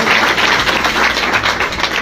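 An audience at an RCM business seminar claps together in a steady, dense wash of applause that stays loud and even for about two seconds, with no talking.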